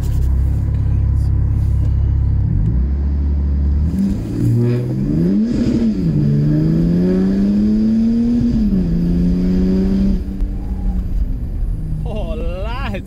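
Diesel BMW M3 making about 400 hp revs hard from idle, its engine note climbing and falling through a launch before dropping back toward the end. The engine is loud and close, with speech faintly behind it.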